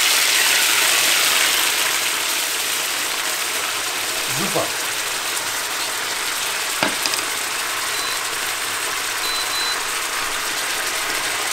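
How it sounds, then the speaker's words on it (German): Marinated salmon sizzles and fries in hot fat in a pan, a steady loud hiss throughout with a couple of brief clinks, and a short spoken word partway through. "das Ganze tun wir jetzt hier schön in die heiße Pfanne mit dem heißen Fett"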